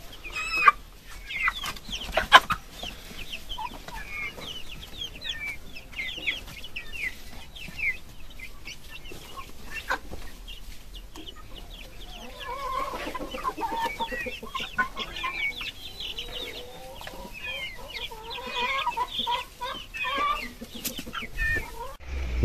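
Steady murmur of many chickens clucking and chirping close by while eating feed, a busy continuous flock chatter with occasional sharper calls, no talking.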